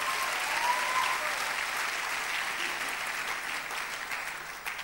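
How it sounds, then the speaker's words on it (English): A church congregation claps hands to the Lord in a steady, dense round of applause that holds fairly loud throughout, with a faint murmur of voices underneath. "Clap your hands one more time to the Lord."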